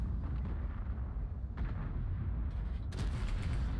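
Tank guns fire in the video game World of Tanks, deep booming shots with a heavy rumbling bed and a sharper blast near the end.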